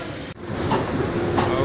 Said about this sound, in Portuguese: a correria aqui no metrô